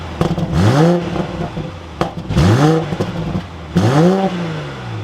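A 2022 BMW X5 sDrive40i engine starting with a whirring crank and a rising rev that settles, repeated three times in succession, loud and close.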